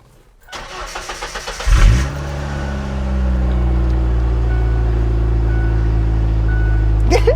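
A lowered Ford Ranger pickup truck cranks briefly, then its engine catches with a loud burst and settles into a steady, close idle that runs on to the end.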